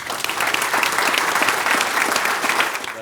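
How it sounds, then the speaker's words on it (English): A crowd claps steadily at a ribbon cutting event. The applause is loud and sustained from start to finish, with many hands blending into a dense patter and no clear speech on top. "give yourselves one more round of applause"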